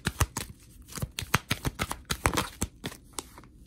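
Tarot cards are shuffled by hand in a quick, irregular run of crisp riffling slaps and flicks, close and fairly loud, with no voices.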